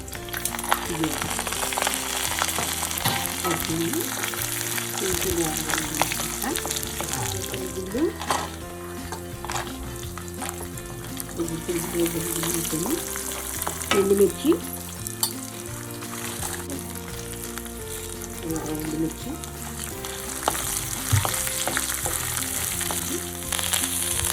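Chana dal fries in hot oil in a pan, giving a close, steady sizzle with occasional stirring clinks under soft background music and intermittent talk.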